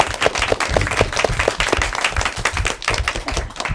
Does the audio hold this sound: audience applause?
yes